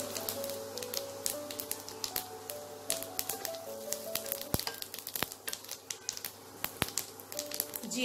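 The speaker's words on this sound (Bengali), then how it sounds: "জিরে ফোড়ন দেব" Cumin seeds tossed into hot oil for a kadai paneer, crackling and popping in sharp scattered bursts over a steady low sizzle, close and fairly quiet, with no voices.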